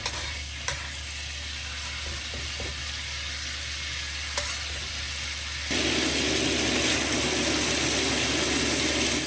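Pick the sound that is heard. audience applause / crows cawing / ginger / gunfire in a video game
ginger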